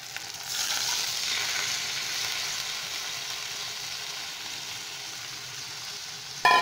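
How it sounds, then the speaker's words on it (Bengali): Masoor dal tipped into a pan of sizzling, softened tomatoes, a steady close frying hiss that flares as the lentils go in and then settles, with a sharp clatter at the very end. "এখন আমি এর মধ্যে দিয়ে দেব ডাল।"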